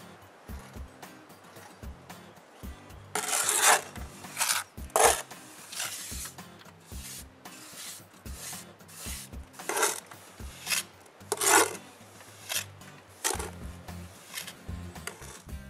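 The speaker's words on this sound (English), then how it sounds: "When it reaches the thickness I want, I spread it on the chimney." Mortar is spread onto a chimney with a trowel in a series of close, rasping scrapes and rubs, each stroke a short gritty burst, repeated irregularly with brief pauses in between.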